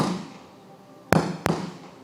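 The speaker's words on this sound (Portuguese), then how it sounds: "É tiro." Two sharp gunshots crack out about a third of a second apart, each a loud abrupt bang with a short decaying tail over a quiet background.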